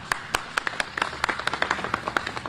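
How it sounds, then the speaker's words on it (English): Scattered hand claps at a press conference ring out close by, a modest group clapping in an uneven patter that fills the short stretch. "Let's bring her on with a round of applause."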